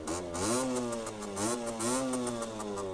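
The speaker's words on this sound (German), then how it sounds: "Zweitakt-Sound." A two-stroke moped engine revs up and down repeatedly, its buzzing pitch rising and falling in close, steady waves with no talking.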